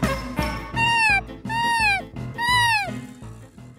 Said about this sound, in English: Let's save the cat.